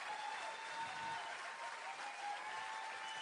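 Steady, dense audience applause at a Georgian song contest, heard from the hall at an even level with no pauses, continuous clapping from many hands throughout.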